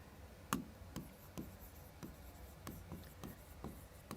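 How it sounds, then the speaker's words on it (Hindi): Handwriting with a pen on paper: steady scratchy strokes at a regular rhythm, close and fairly quiet, with no talking over it. "ये भी यहाँ पे लिखेंगे।"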